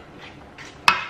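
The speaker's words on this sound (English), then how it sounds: "The best way to stir it is in a figure of eight" A spoon stirs cheese sauce for cauliflower pasta in a pan, with soft scraping swishes followed by one sharp metallic clink, all close and brief.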